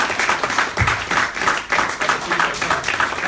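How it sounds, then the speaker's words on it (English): An audience at a Nation of Islam UK regional headquarters gathering gives a sustained round of applause, with many hands clapping in a dense, pulsing wash at close range. "Let's have one more round of applause."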